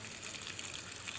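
Relatively level river current feeding a 3-inch hydram pump setup, a steady broadband rush of water with no pauses, close and moderately loud, no voices.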